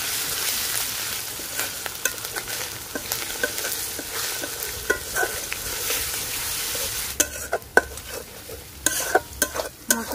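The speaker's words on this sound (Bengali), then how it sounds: "মশলাটা ভালোভাবে কষাই নিছি" Garlic, ginger and cumin pastes sautéed and stirred in a pan after lightly fried onion, for chicken moong dal: a steady sizzle with frequent scraping stir strokes, sharper clatter toward the end, no voices.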